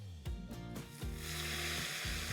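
Loud, steady sizzling hiss of hot brown butter poured into a bowl with water in it, with a low, pulsing tonal hum underneath.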